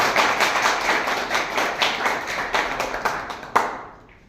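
Applause at a training centre honour ceremony as the director is welcomed: a crowd clapping steadily for about three and a half seconds, ending with a final loud clap, then fading out.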